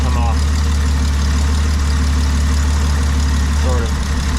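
A 1995 Jeep Wrangler 4.0 engine idling with one fuel injector disconnected, a steady loud low rumble that shifts slightly near the end, under brief talking.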